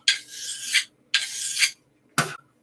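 A knife blade is drawn along a sharpener in three close, rasping strokes. The first two strokes are long and even, and the third is short and sharp, each separated by brief silence.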